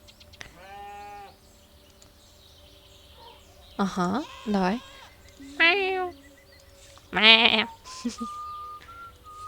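A goat-like animal in the video game The Stillness of the Wind gives several short, tonal whistling bleats while being milked, with pauses between calls, over a faint steady game hum and brief speech.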